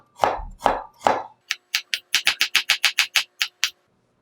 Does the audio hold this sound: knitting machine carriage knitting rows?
no